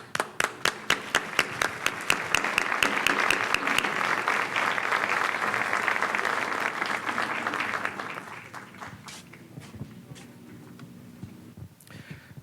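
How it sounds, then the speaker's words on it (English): An audience at a public event applauds to welcome a speaker. It starts with a few separate claps, builds into a full, sustained round of clapping, and then tapers off to scattered claps. "a warm round of applause"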